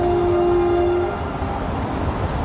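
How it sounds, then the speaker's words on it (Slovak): A train rumbles steadily as it enters a rock tunnel on a Slovak railway line, with a sustained tonal whine over low rolling noise that dulls slightly partway through; no talking. "Takisto vidíte, že ten vlak vchádza do tunela"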